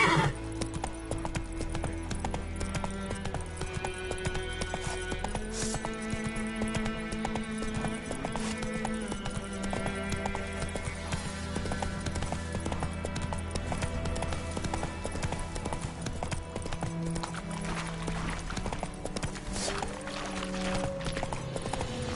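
Roach the horse from The Witcher 3 galloping, a steady rapid clip-clop of hooves with an occasional whinny, loud and continuous under a full musical score.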